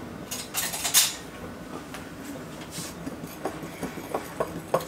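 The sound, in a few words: fork mixing salt, baking soda and baking powder for muffins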